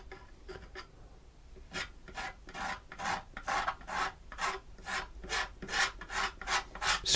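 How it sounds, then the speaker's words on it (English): Paint being scraped off an acrylic landscape painting: a series of rhythmic, rasping strokes, close and fairly loud, speeding up into a steady back-and-forth scrape with no talking. "Scrape a bit of paint off, have a bit of fun, do something different."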